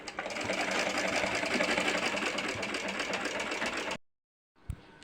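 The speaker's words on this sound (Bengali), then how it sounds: "কুচির কাপড়টা সেলাই করে নিই" Sewing machine stitching frill fabric for a child's salwar hem, running in a steady close whirring chatter for about four seconds before stopping, followed by a brief thump and quiet handling.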